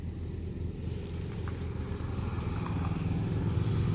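A new CFMoto 700 MT motorcycle with a 700cc engine hums while riding, a steady low drone blended with wind rush that builds slightly louder toward the end.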